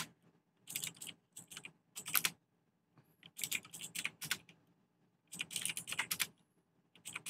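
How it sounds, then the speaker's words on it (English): Frantic, rapid typing on a computer keyboard picked up over a voice chat during a late-night PUBG session, coming in dense bursts separated by short pauses, fairly faint and with no talking. "Who's typing like a fucking epileptic?"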